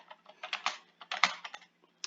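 Fingers tap on a computer keyboard up close, a quick uneven run of light clicks in short bursts with brief pauses, typing a search term, no talking.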